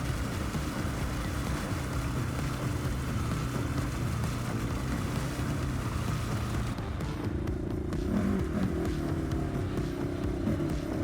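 A CF-Moto Cforce 1000 mud-version ATV churns its way out of a deep mud trap, a steady loud engine drone with low rumbling and wet sloshing that deepens and swells toward the end.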